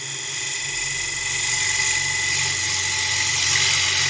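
Tool chatter on a woodturning lathe, a steady high-pitched whine and buzz as the tool bites into spinning wood, loud and continuous for several seconds with no talking.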